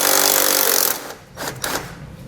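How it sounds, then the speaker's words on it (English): A power tool with a 15mm socket spins a nut off a bolt under a 2012 Ford F-150, giving a loud close buzzing rattle for about a second, then a brief pause and a couple of short whirring bursts. "We're going to remove the nut from it using a 15mm socket."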